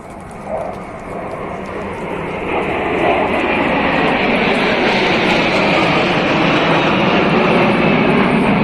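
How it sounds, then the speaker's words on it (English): MiG-29 and Sukhoi fighter jets fly past in formation at India's Republic Day parade, a loud, steady jet roar that swells over the first few seconds and then holds, broad and rushing, with no voices. "MiG-29s from Air Force Station Nal, while the Sukhois from Jodhpur"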